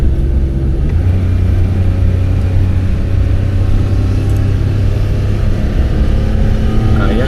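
A Suzuki minivan engine drones with a steady, heavy rumble close by, straining evenly without a break while climbing uphill.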